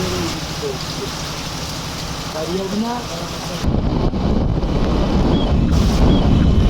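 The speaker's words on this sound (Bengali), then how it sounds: "এখানে দেখো কিরম বৃষ্টি হচ্ছে মুসলধারে বৃষ্টি নেমেছে" Heavy rain pours down in a steady wash of noise mixed with wind buffeting the microphone, growing louder and denser partway through.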